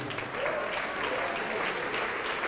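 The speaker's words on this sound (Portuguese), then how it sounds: "E está vindo mais, vamos aplaudir mais." A church congregation applauds throughout, a steady dense wash of clapping from a crowd, with a preacher's voice faintly mixed in beneath it.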